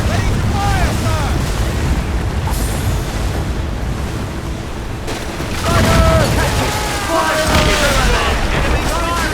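Ship cannons boom in a naval battle in Assassin's Creed Rogue, repeated heavy blasts over rushing sea and wind while crew voices shout throughout.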